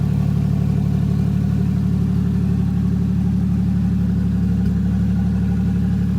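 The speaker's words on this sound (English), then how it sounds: "The idle is incredibly calm." A Toyota 1JZ engine swapped into a Lexus GS300 idles steadily and smoothly, a low even rumble with a faint pulsing, close by and continuous with no revving.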